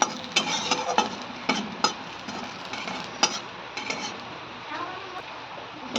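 Cumin seeds and broken dried chillies dry-roasting in a wok without oil while being stirred: soft scattered scrapes and sharp little taps of the spoon against the pan over a low background hiss, with no voices.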